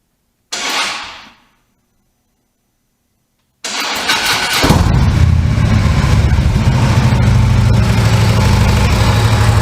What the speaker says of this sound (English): Check the starter. Actually run the bike.